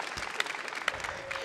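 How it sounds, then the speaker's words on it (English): Brief burst of audience applause in a room during a talk on escaping debt, scattered claps with a voice audible over them. "Yeah, you can clap for that"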